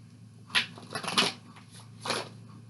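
Cards shuffled by hand during a rune reading, a few soft riffling bursts, close and quiet, with gaps of near silence between them.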